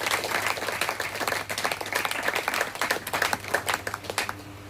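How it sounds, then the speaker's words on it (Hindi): A church congregation clapping hands loudly in thanksgiving, a sustained crowd applause of many overlapping claps with a low steady hum underneath, close and continuous throughout. "जोर जोर ताली बजाए प्रभु के धन्यवाद दे"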